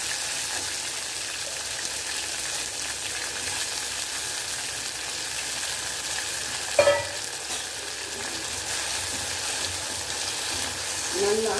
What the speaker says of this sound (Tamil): இப்போது நம்ம இதில் பாவக்காவை பொரிச்சு எடுக்க போகிறோம்.